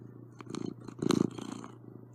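A cat purrs close up in a short burst, a rough pulsing rumble that swells and fades over about two seconds, steady hum behind it and no talk.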